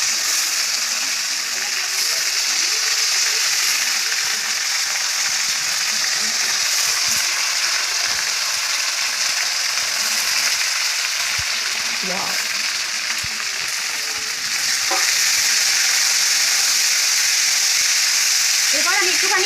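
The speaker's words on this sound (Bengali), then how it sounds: "মটরগুলো একটু হালকা হালকা করে আলুটার সঙ্গে ভেজে নেবো" Peas frying with lightly fried potatoes in a pan for ghugni, giving a steady close sizzle with soft scraping and a few brief clinks, and a voice talking faintly in places.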